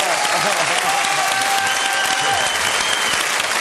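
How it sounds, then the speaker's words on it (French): Studio audience applauding the comedy troupe Les Nuls at a French television show, dense steady clapping filling the whole stretch at a loud, even level with no voices standing out. "On peut applaudir les nuls."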